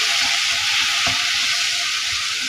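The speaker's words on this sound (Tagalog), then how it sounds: "Mekos-mekos hanggang mag-well combine ang ating mga spices" Spices with garam masala, tandoori masala and tomato sauce sizzle and fry steadily in a pan for a fish biryani, with a spoon stirring through and a dull knock partway, no voices.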